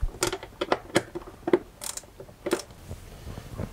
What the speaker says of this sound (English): I recommend you to have this spanner with a ratchet embedded